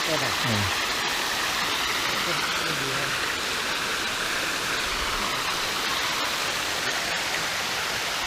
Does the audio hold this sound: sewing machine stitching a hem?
no